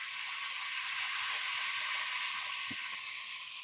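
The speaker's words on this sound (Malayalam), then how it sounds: "ആ തിളച്ച വെള്ളം ഒഴിച്ചിട്ട്" Boiling water poured into a hot tomato and oil base for a fish curry gives a steady hissing sizzle that fades slightly toward the end, with no voices.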